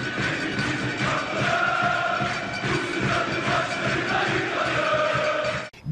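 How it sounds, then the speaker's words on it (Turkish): Beşiktaş supporters roar and chant together at Vodafone Arena during a Champions League football match, a dense, loud wall of crowd voices that holds steady throughout before cutting off abruptly at the end. "Vodafone Arena'daki tezahürat Şampiyonlar Ligi maçında Leipzigli genç yıldız Wenger'i adeta sağır etti"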